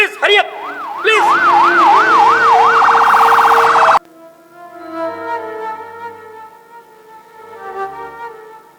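A loud, close ambulance siren wails in rising and falling sweeps, then holds a steady high tone before cutting off abruptly, leaving soft music behind.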